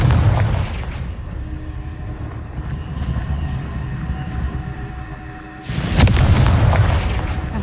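A Confringo fire-blast spell explodes in the Hogwarts Legacy video game with a loud, deep boom that decays into a rumbling roar, then a second heavy blast hits near the end.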